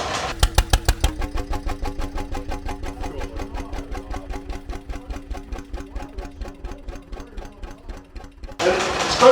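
An antique Ruston Hornsby stationary engine with huge flywheels runs down after its fuel is cut, a steady chuffing beat that slowly loses strength and slows, ending in a burst of louder noise.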